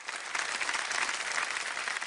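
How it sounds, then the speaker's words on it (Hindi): A studio audience bursts into sustained, dense applause for Hema Malini at a televised anniversary celebration, steady and full throughout. "एक बार जोरदार तालियां बजाए"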